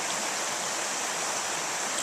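A mountain stream in Smithfield Canyon, Utah rushes with a constant, dense broadband hiss, loud and close, steady throughout with no voices.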